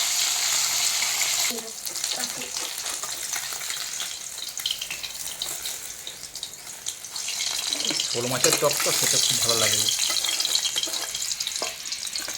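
Fish sizzles steadily in hot oil during village cooking, a continuous close crackle that swells louder near the end, with a voice talking over it.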